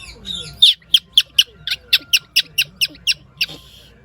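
Whistling in imitation of a sparrow gives a rapid run of about a dozen sharp, high chirps, close and fairly loud, with faint background murmur between them.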